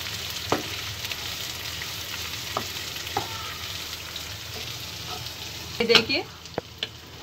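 Pistachios and coconut roasting in a pan over a low flame while Sheer Khurma is being made give a soft, steady sizzle, with a few scattered stirring scrapes and a brief clatter near the end; a voice speaks briefly.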